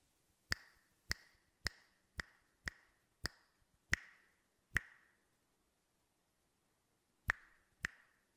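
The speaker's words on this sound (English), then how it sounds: "let's, for example, record some finger snaps to test things out" Ten crisp finger snaps ring out one at a time in a quiet room: a steady run of eight, a pause, then two more.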